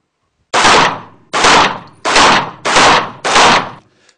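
Five loud, evenly spaced gunshots while shooting on the move across targets downrange, each a sharp close blast with a short decaying tail.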